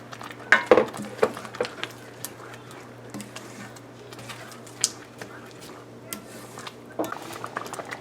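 A spoon clinks and scrapes against a pot while milk is stirred into a boiling sugar cake mixture of sugar, with scattered light metallic taps and stirring sounds close by under a talking voice.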